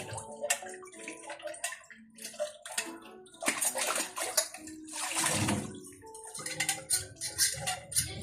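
Water runs and splashes into a clogged sink filled with water while dishes are washed, with intermittent clinks and sloshing bursts, close and moderately loud, no talking.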